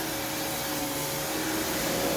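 A Kenmore Progressive vacuum cleaner drones loudly and steadily as it runs over living room carpet, a dense close motor roar with no pauses.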